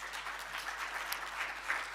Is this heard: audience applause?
yes